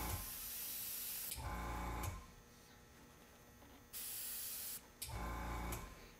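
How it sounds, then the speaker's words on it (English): A makeup airbrush with its tip closed down to a narrow setting hisses in steady bursts of fine spray, switching on and off with a brief click, close and fairly quiet. "Now I'm going to close the end of the tip of the airbrush down."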